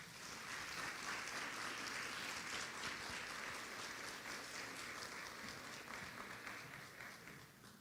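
An audience applauds to welcome a panelist at an education panel, a sustained wash of many hands clapping at fairly low level, steady throughout and tapering slightly at the end, with no voices.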